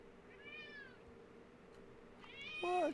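A cat meows twice, a fainter drawn-out call early on and then a louder, closer meow at the end, over a quiet steady background hum.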